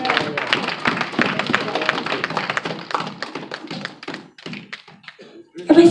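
A church congregation at a sermon on family empowerment claps in steady, rapid rhythm, loud and close, thinning to scattered claps toward the end, with voices underneath.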